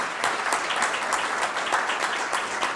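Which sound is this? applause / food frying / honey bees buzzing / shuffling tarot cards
applause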